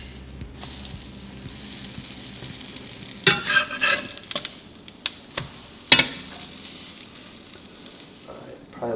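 Protein pancakes cooking in avocado oil on a stovetop pan, a soft continuous sizzle broken by a cluster of scraping and clattering utensil sounds midway.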